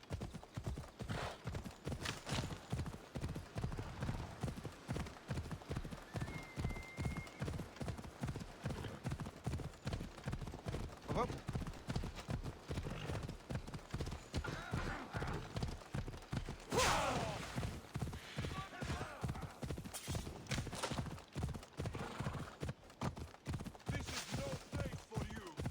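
Phobos, a horse in Assassin's Creed Odyssey, gallops with rapid, even clip-clopping hoofbeats that run unbroken from start to end, with an occasional snort or whinny over the game's ambient sound.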